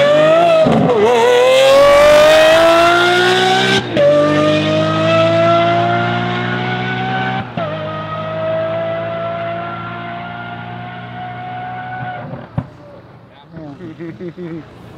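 Tesla Plaid and twin turbo Chevy Silverado racing: a loud engine roars up through rising revs with sharp gear-shift breaks, the strong harmonic whine holding steady before fading away, then brief crackles at the end.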